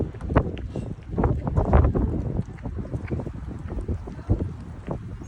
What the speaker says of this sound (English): Show what you got, Wind.